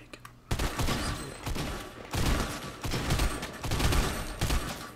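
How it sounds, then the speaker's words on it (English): Rapid bursts of gunfire in a Fortnite duos match, sounding loud and near with several volleys in a row, with some speech faintly mixed in. "Where's that shooting coming from?"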